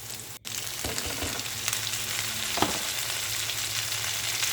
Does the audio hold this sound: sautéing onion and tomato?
yes